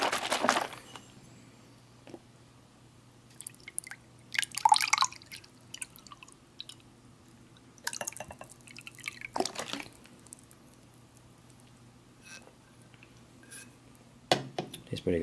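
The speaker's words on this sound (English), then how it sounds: "Just want to make sure that's all mixed up good." Lemonade drink powder stirred into water from a military ration packet, giving scattered faint clinks, taps and small liquid splashes with a soft background hum and quiet pauses between them.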